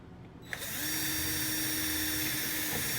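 A power drill bores into an RV wall while a washer/dryer is installed: a short click, then a loud steady whine that holds for about two seconds before easing off, with no speech.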